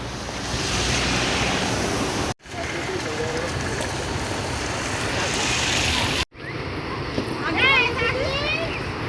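Sea surf rolls onto the beach at Digha, a steady broad wash of breaking waves with wind buffeting the microphone, cut by two brief dropouts, while people talk over it and a few faint high chirps sound near the end.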